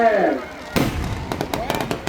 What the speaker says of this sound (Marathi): फटाके उडायला लागले.